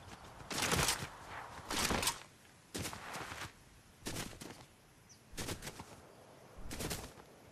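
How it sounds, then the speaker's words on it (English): Distant gunfire in a video game comes as six evenly spaced bursts of shots, each lasting under a second, with quiet gaps between them. "I hear gunshots."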